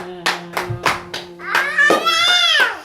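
A church congregation claps in a steady rhythm of loud, close claps, then voices rise in loud acclamation.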